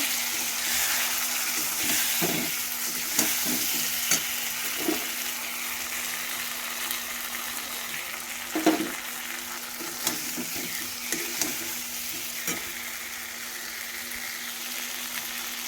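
Potatoes fry in a pan with ginger, cumin, coriander and a little red chilli powder, giving a steady broadband sizzle with scattered crackles and stirring scrapes; no one speaks.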